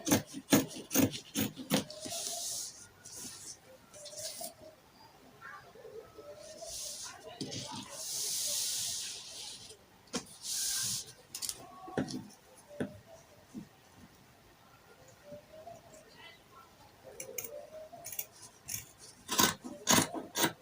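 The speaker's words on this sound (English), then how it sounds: "I'll just first of all cut out the initial armhole, that's the one for the back" Scissors snip and rasp through fabric to cut an armhole for a straight gown, with repeated crisp cuts and rustling cloth, close and intermittent, while a person talks over parts of it.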